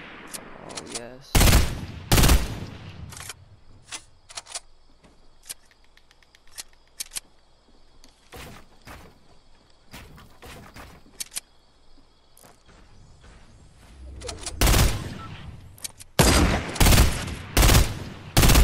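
Bursts of rapid gunfire in the video game Fortnite. Dense volleys open the clip, sparse single shots crackle through the middle, and heavy firing returns near the end.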